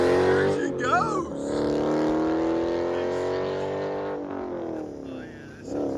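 A Dodge Challenger 392 Scat Pack with a 6.4L HEMI V8 and aftermarket exhaust drives by at close range, its deep engine tone swelling and holding steady before fading away near the end.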